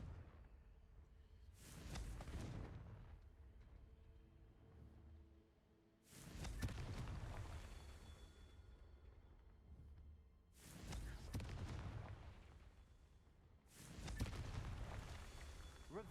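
Confringo blasting spells exploding in the video game Hogwarts Legacy, four heavy booming bursts spaced a few seconds apart, each with a deep rumbling tail.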